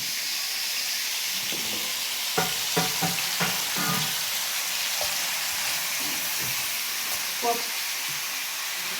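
Onion sautés in a pan with crushed ginger and garlic, a constant bright frying hiss with a cluster of stirring clinks and scrapes in the middle and a few later taps, close by.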